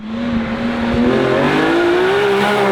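A heavily modified 800 hp BMW M Coupe roars at high revs, the engine note climbing steadily and staying loud and close throughout without any talk.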